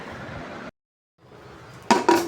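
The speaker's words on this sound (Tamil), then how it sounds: "குக்கர் வந்து க்ளோஸ் பண்ணிடுறேன்" Metal pressure cooker lid being closed on the pot: a steady background rush cuts out briefly, then a couple of close, bright metallic clanks and scrapes as the lid seats.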